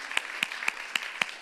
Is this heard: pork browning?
no